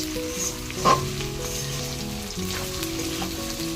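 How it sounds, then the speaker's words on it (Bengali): Potatoes, beans, carrots and onions sizzle and fry steadily in a hot pan, with a brief clatter of stirring partway through; no voices. "এখন ভাজছি আলু, বিনস, গাজর আর পেঁয়াজ"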